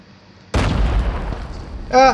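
A C4 explosive detonates in COD Mobile battle royale: one sudden loud blast with a rumbling tail that fades over about a second, followed by a voice speaking.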